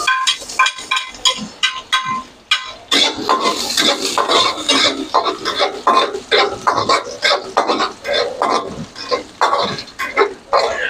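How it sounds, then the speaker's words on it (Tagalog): Garlic tossed into a hot pan and stirred, a metal utensil scraping and clanking against the pan in quick, irregular strokes with a light sizzle underneath, close and loud. "Kung mainit na, pare, lagay mo na yung bawang."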